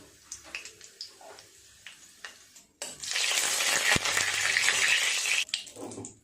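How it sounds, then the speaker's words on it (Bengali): A tempering of cumin, a dried red chilli and a bay leaf drops into hot oil with a loud burst of sizzling that holds for a few seconds after some light clinks, then fades. "ফোড়নে দেব 1 চামচ জিরে, একটা শুকনো লঙ্কা আর একটা তেজপাতা"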